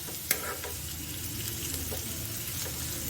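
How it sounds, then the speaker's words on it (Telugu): Ingredients for a nalleru chutney fry in a pan with a constant close sizzle, broken by a sharp spoon clink early on and soft stirring scrapes. "పచ్చి వాసన పోయేలాగా చాలా బాగా వేయించుకోవాలి."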